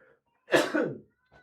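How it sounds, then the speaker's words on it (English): One short, sharp cough up close, a single burst followed by quiet. "Sorry, adding the cough as well there."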